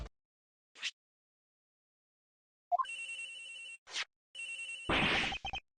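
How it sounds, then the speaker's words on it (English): A mobile phone rings in the Ace Attorney Investigations video game: a short chirp, then two bursts of electronic ringtone with a brief gap, ending in a louder noisy burst, clear and alone. "Agent Hicks's phone! It's ringing from somewhere, sir!"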